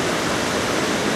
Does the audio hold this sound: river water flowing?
yes